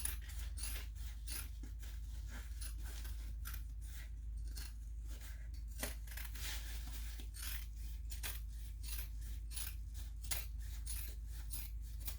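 Scissors trim the fabric of a messenger bag in a steady run of close, crisp snips, one after another over a low background hum.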